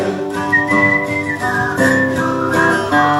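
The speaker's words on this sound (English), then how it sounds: "Let's hear the whistle." A person whistles a lively tune up close, clear sustained notes gliding between pitches with no talking.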